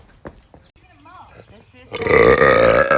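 A loud, long burp rolls out after some quiet talking, close up and harsh, lasting over a second.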